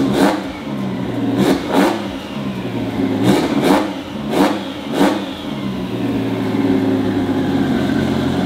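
Subaru WRX STI with a swapped EG33 flat-six running rich, loud and close, its steady engine note punctuated by about half a dozen sharp throttle blips and revs, then settling into a sustained drone.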